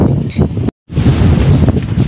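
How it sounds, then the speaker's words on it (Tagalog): Strong, cold wind gusting across an open hillside in Don Salvador Benedicto, a loud continuous roar of wind buffeting the microphone, briefly cut off for an instant before resuming. "naririnig nyo ang ihip ng hangin, sobrang lakas, malamig"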